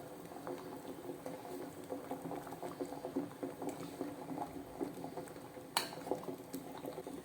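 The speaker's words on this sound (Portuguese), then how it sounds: "a gente tá fervendo bastante, tá vendo? A água bem borbulhante" Water bubbling at a vigorous boil in a pot, a continuous close burbling with a single sharp metallic clink partway through.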